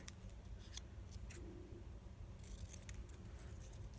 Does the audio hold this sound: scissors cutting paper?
yes